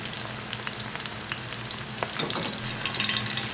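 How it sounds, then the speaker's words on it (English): Garlic fries in oil over medium heat for Thai chili jam (nam prik), giving a steady close sizzle and crackle with scattered pops that grows a little louder toward the end. "we're only going to fry it up on a medium heat here for about a minute or two till it's golden"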